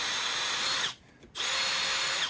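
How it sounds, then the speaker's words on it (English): A power drill bores drainage holes through the bottom of a flower pot: a loud, steady, close whine that cuts out for a moment and then starts again. "Already got the holes drilled through the bottom of it for drainage."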